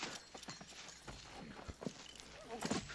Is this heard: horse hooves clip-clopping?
yes